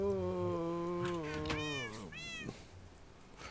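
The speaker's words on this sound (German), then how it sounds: "diese Katzen sind unheimlich störend" Cats meowing in the Minecraft video game: several drawn-out, pitch-bending meows overlap in quick succession, fairly close, with faint game ambience behind them.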